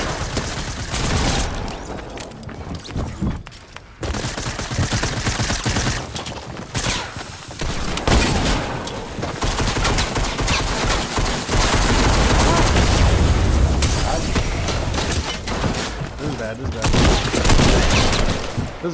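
Gunfire in a Fortnite match, dense and nearly unbroken volleys of shots lasting well over fifteen seconds, with some louder booming hits, as a player talks excitedly over the shooting.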